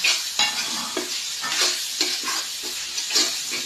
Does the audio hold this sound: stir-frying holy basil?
yes